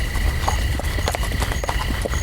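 A horse walks through scrub pines in a fantasy audio drama, its hooves clip-clopping in an even, close rhythm over a low background bed.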